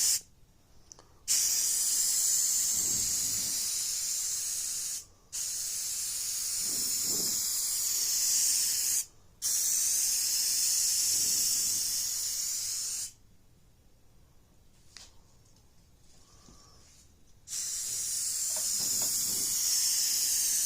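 An aerosol can of spray paint hisses in several long bursts of a few seconds each, separated by brief pauses, close and fairly loud, while painting a Jeep Cherokee hatch panel.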